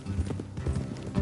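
Horse hooves drum along a trail in Red Dead Redemption 2, a steady rapid clip-clop pounding close up through the whole stretch with low rumbling thuds.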